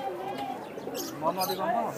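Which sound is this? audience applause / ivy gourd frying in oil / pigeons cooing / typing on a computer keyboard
pigeons cooing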